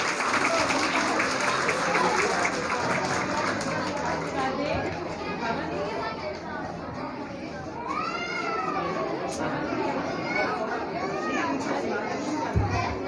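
A school audience claps and cheers for a student at an Islamic educators' school event, a dense continuous roar of hands and voices with children's shouts and chatter mixed in throughout.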